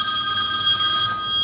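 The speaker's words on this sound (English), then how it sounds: "think I'm gonna get my phone" Phone ringing in a home kitchen, a loud close electronic bell-like ring with steady high tones held throughout, no talk.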